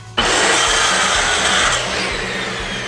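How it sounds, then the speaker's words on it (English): A circular saw cuts through pallet wood, a loud, steady whining buzz that starts abruptly and runs continuously, easing slightly toward the end, with no talking. "if you don't have like a super ultimate tool like a miter saw, you can just use a rotating saw"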